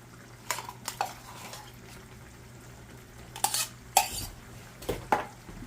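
Spoon stirring tomato paste into homemade spaghetti sauce in a pot on the stove, a few scattered metallic scrapes and clanks over a low hum, close and fairly loud.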